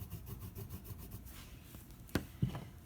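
Crayon scrubs across paper while a self portrait is coloured in, giving a close, quiet, rhythmic rubbing in quick strokes, followed by a couple of light taps.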